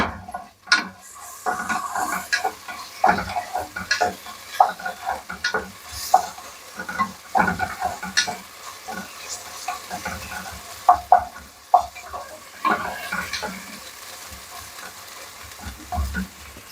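Chopped onion, green chillies and ginger fry in oil in a pan for a chicken curry, with a continuous close sizzle broken by repeated scraping and clacking stirs of a utensil against the pan, no talk.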